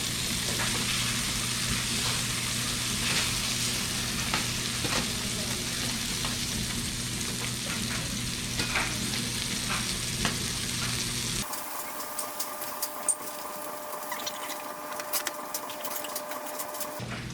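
Cubed steak frying a few pieces at a time in a pan with drippings, a loud continuous sizzle with small crackles that cuts off abruptly near the end, leaving quieter kitchen clatter.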